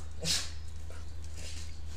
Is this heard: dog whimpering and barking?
yes